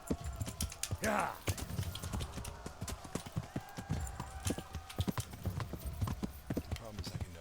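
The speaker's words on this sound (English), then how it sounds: "Problem is I can never get this horse to go fast." Horse hooves clip-clop steadily at a trot in the medieval game Kingdom Come: Deliverance, a dense, even patter of close hoofbeats with a brief whinny-like sound near the start and a voice in the background.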